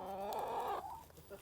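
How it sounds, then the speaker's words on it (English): Close, fairly loud clucking from a chicken, one drawn-out call followed by a couple of softer clucks, with nobody talking. "Yep, reckon that's a chicken."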